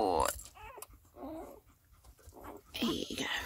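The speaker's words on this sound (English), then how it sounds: "there's quite a few puppies drinking and talking" Seven-day-old English Springer Spaniel puppies let out thin, high whimpers and squeaky cries up close, while a person talks softly over them.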